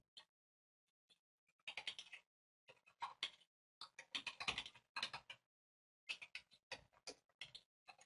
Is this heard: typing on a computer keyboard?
yes